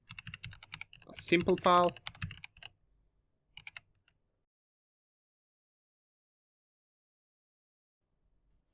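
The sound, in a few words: typing on a computer keyboard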